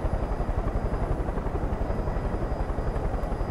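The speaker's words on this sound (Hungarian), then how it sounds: "Helikopter." A helicopter in Far Cry 5 thrums with a fast, steady rotor chop over a dense engine roar, loud, close and continuous.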